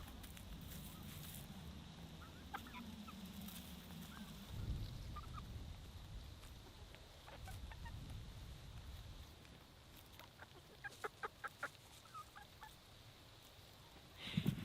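Crane-like birds honking like geese near a garden potato patch, faint calls scattered through soft outdoor ambience, with brief sharp honks clustering toward the end.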